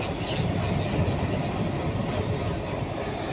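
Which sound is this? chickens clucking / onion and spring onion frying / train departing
train departing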